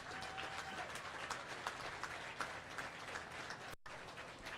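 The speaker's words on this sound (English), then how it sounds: "give this set of young people a round of applause" Audience applause for a group of young competitors at a livestock showmanship contest, a steady wash of clapping from many hands that fills the whole stretch with only a brief break near the end.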